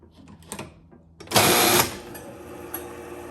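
A 1948 Chicago Coin Catalina pinball machine's mechanism whirs as it tries to reset: scattered clicks, then a loud mechanical buzz of about half a second, fading into a faint running hum with a few ticks.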